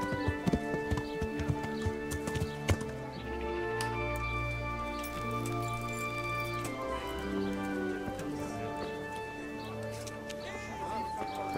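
Horse hooves clip-clop at a slow walk in the Kingdom Come: Deliverance video game, soft and steady under a layer of tonal game music and ambience, with occasional birdsong.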